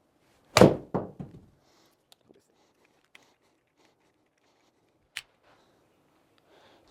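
A golf club strikes a ball with one sharp, close thunk and a short ringing decay. A few faint ticks and clicks follow in an otherwise quiet setting.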